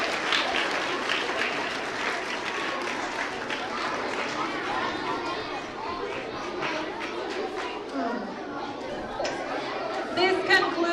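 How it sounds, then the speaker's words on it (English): An audience claps steadily through the whole stretch, with chatter and voices mixed into the applause at the close of a school performance of How the Grinch Stole Christmas. "Give him a big round of applause."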